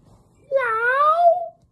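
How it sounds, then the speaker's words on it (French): A single clear cat meow, close and fairly loud, rising then falling over about a second, alone in an otherwise quiet garden setting. "Mais ce sont les chats qui font miaou."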